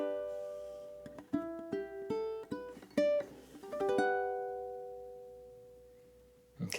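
A ukulele plays the final two measures of a sweet Disney-inspired melody, a string of plucked notes and brief strums that settles into a long sustained chord fading out, close-miked and unaccompanied.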